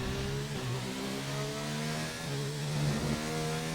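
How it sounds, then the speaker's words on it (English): F1 car in the racing game F1 2019 passing by, a rising and falling high-pitched engine whine with gear-shift steps, moderately loud and continuous without speech. "As I hear Verstappen going by, he's about to be swallowed for 18th place."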